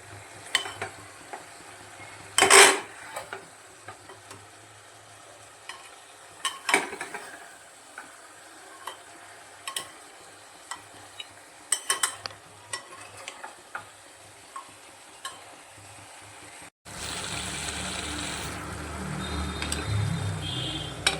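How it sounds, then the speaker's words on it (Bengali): Mutton for curry is stirred and fried in a pressure cooker, with a soft continuous sizzle under scattered scraping and clinking taps of a spoon against the metal pot. The sizzle grows louder and fuller near the end, and nobody speaks. "এরপর এটাকে ভালো করে মিশিয়ে নিয়ে মাংসটাকে ভালো করে কষাতে হবে।"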